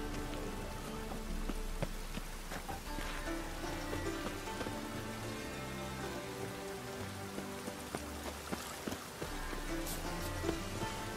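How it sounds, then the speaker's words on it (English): Steady rain from The Witcher 3: Wild Hunt patters on surfaces, a continuous dense wash of droplets with a low rumble underneath and occasional sharper drips, fairly close and consistent throughout. "Looks like rain."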